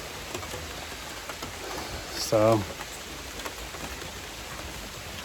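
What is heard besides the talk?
rain falling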